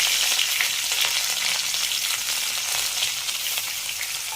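Green chillies, shallots and curry leaves frying in hot oil, a loud, dense, steady hiss of sizzling close up that carries unbroken to the end.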